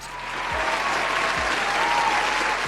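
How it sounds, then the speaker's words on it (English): An audience claps steadily in a round of applause, a dense, even wash of many hands that holds at a constant level for the whole stretch. "A round of applause."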